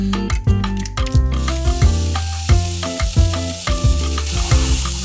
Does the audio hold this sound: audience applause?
no